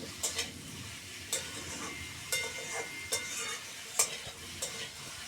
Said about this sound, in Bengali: সবজিগুলো খুব সুন্দর করে ভেজে নিয়েছি